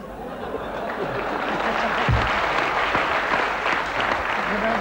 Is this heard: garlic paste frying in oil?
no